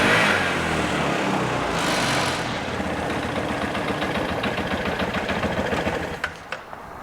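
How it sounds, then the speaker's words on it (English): A Y2K-era Vespa ET4 scooter engine idles steadily after being brought back to life, a continuous buzzy mechanical drone with faint rapid ticking, settling slightly quieter near the end. "at this point, we got a scooter that's running"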